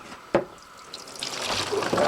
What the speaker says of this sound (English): we need to get a big pan, which we have right here, and spill what we've got